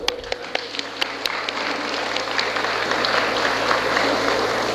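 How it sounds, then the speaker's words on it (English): An audience at a school event applauds the teachers, beginning with a few sharp separate claps that quickly swell into steady, dense, moderately loud clapping filling the hall. "we'll have a big round of applause for our teachers"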